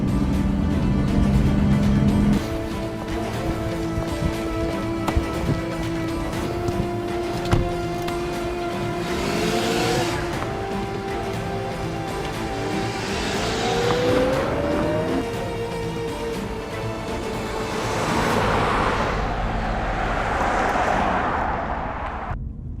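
A car drives steadily throughout with a continuous engine drone and road noise, its pitch rising and shifting as it accelerates, with broadband swells near the end as it speeds along.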